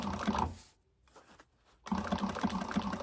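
A sewing machine stitches the seam of a fabric bag, running in a fast, even whirring burst, stopping for about a second, then starting again.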